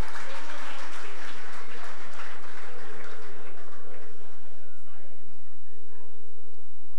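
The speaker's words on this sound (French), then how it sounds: "Applaudissez-la, s'il vous plaît." Audience clapping at a talk about Haitian youth and economic sovereignty, a brief burst of many hands that fades over a few seconds while a voice speaks over it.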